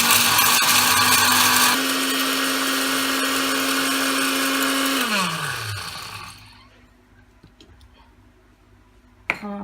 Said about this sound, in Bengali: তারপরে এই সব মশলা দিয়ে গুঁড়া করে নিচ্ছি